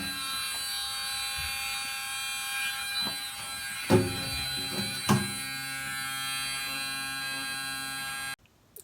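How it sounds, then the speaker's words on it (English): An electric bilge pump runs aboard a boat with the engine and a vacuum also going, giving a steady mechanical hum and buzz with a couple of brief knocks before cutting off near the end. "That other bilge pump didn't seem to really be cutting it."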